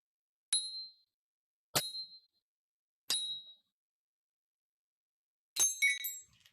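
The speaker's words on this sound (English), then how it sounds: "the bell sound was still softer than the bigger one" A small bronze bell from the Marquis Su of Jin set is struck four times, each a bright, clear ring with a short decay; the last strike is fuller and shimmers longer, all in near silence.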